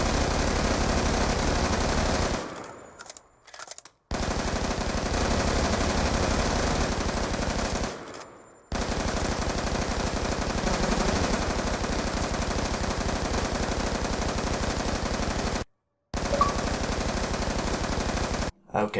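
Loud, rapid automatic fire from an MTAR rifle in a video game, fired with standard and fast magazines, with long sustained bursts broken by brief silent gaps for reloads.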